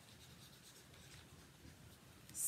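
A pen writing a short note on paper, a quiet, close scratching that continues steadily for a couple of seconds, alone without talk, ending with a louder brief scrape.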